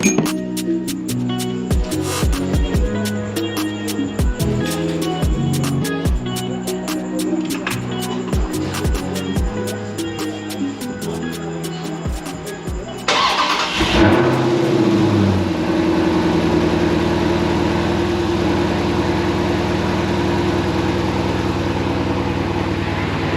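A Dodge Charger/Challenger 392 V8 with a ported intake manifold cranks and catches with a sudden roar about halfway through, then settles into a steady, loud idle, after some earlier clinking and rattling.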